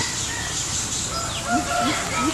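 Chickens, including a capon, clucking near a straw pile: a few short rising clucks in the latter half over a soft background hum.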